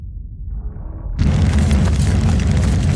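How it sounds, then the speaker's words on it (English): Sound-designed raging fire with explosions for a scene in the film Iron Age where robots set a human settlement ablaze. A low rumble builds, then a sudden loud boom gives way to a dense, heavy roar with deep bass that keeps going. "I wanted it to sound like a raging, vengeful fire"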